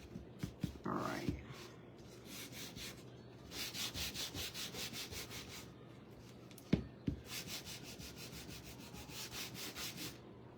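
A wood shim is sanded by hand with sandpaper, repeated close rasping strokes in bursts with a few knocks between and brief pauses.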